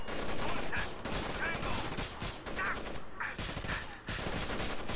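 Gunfire in Rainbow Six Vegas 2 rattles almost continuously as dense, loud bursts and volleys, with explosive cracks layered over a busy combat soundscape.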